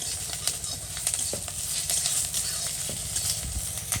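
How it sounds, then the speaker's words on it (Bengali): Green chillies hit hot oil already tempered with bay leaf and black cumin, giving a steady close sizzle and crackle with a few sharper pops throughout. "তেলের পরে কাঁচা লঙ্কাটা দিলে ফাইটে উঠে যাবে"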